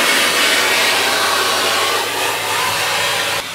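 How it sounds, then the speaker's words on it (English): A 750-watt vacuum cleaner runs off a boat's battery through an inverter/charger, a loud, steady broadband whoosh held at full strength before dropping slightly near the end, with no talking. "So I'll now switch on my vacuum cleaner and see what's happening."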